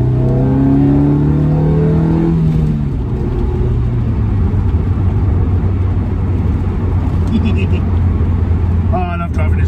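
An MG MGF sports car pulling away and accelerating, heard from inside as a loud continuous engine rumble that rises in pitch at the start and then holds steady.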